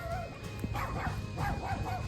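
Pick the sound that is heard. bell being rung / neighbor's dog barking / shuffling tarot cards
neighbor's dog barking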